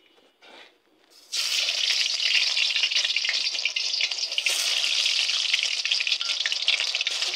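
Shaped snacks hit hot oil after a quiet start, and a loud, dense frying sizzle then bursts up and holds steady with fine crackling to the end.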